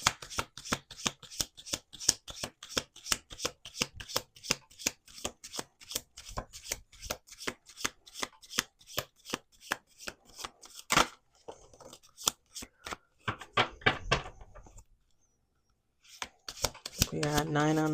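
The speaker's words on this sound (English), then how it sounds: "2 more shuffles." Rapid, crisp riffling of a deck of cards, repeated in quick bursts, close by, followed by a brief pause and a few more soft shuffles.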